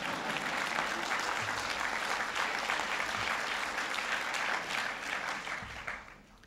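Sustained audience applause during a presidential speech on vehicle emissions standards, dense steady clapping from a large crowd that fades out near the end.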